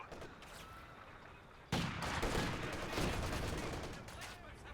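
Machine gun fire from the video game Company of Heroes starts abruptly after a quieter lead-in and keeps on as sustained rapid bursts with distant battle noise, at moderate loudness, with faint commentary voices underneath.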